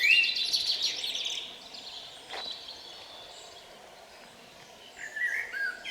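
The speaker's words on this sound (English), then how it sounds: "all you can hear is the birds and nothing else" Birds singing in quiet woodland at the Chained Oak near Alton Towers, a few high chirps and trills close by at first, then fading to a soft, near-silent background before another brief call.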